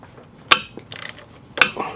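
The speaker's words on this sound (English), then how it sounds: "Put the ratchet in, push in on the ratchet while you try and twist." Ratchet with an Allen socket working on a timing belt bolt of an Audi A4 B5 1.8T: two sharp metallic clicks with short bursts of ratcheting and rattling between them, close and fairly loud.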